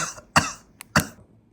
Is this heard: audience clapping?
no